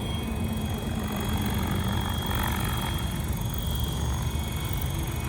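A Synergy 696 RC helicopter with a 12s setup spools up slowly and lifts off, its rotor and motor giving a steady, loud whir with a high whine that holds throughout.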